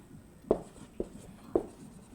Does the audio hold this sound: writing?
yes